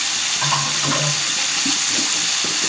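Water poured into a pan of ridge gourd and potato curry cooked with ground peanut paste, a steady trickling splash over a broad hiss with a low hum, close by and with no talk.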